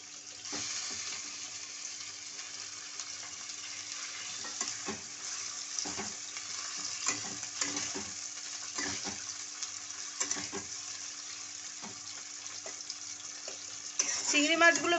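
Prawns frying in oil with whole garam masala and lightly browned onion, a soft continuous sizzle with intermittent stirring scrapes, quiet and close, brightening near the end.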